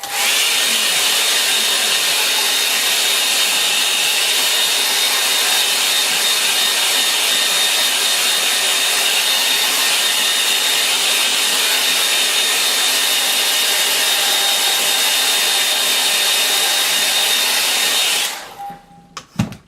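A hair dryer blows steadily on a watercolour painting of a river scene, a loud continuous whooshing whir held for about eighteen seconds before it clicks off, leaving near silence.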